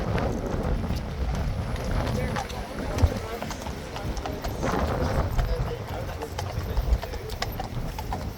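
Horse hooves clip-clop on a street as tourists scatter near a King's Horse, a steady run of nearby hoof strikes over crowd noise and wind, with voices talking throughout.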